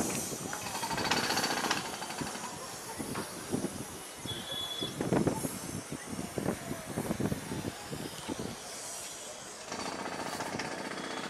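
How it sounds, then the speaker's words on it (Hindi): Jackhammer pounding at a construction site near The Ridge and Christ Church in Shimla, Himachal, rattling in bursts of varying loudness against steady outdoor background noise. "यहाँ पे कुछ कंस्ट्रक्शन चालू है।"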